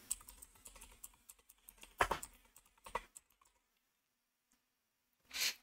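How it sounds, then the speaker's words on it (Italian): Keys clatter on a computer keyboard as a search query is typed into a web browser, bursts of quick clicks with pauses between them, close and fairly quiet, ending in a brief louder rustle. "andiamo a digitare nel motore di ricerca Gentiluomo Digitale"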